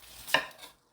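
A single sharp knife chop through green onion and onion on a cutting board while preparing kimchi seasoning, one crisp close stroke with a short tail and no talking.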